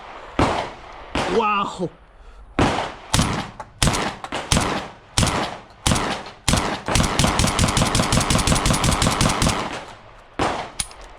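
A 12 gauge Black Aces bullpup shotgun fitted with a drum magazine and muzzle brake fires outdoors: about a dozen loud, booming single shots, then a rapid burst of quick blasts. A voice briefly exclaims once.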